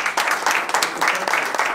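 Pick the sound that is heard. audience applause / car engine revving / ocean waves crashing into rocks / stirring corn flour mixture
audience applause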